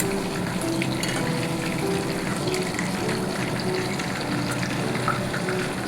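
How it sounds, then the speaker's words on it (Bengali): Chicken pieces deep frying in oil in a kadai, a steady dense crackle and bubble filling the whole stretch at close range with no pauses. "প্রত্যেকটা চিকেনের পিসকে আমি ভেজে নেব।"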